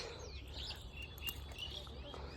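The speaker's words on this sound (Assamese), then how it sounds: "চৰাই চিৰিকটি মাত" Faint, scattered bird chirps ring out against a soft outdoor background, with no talking.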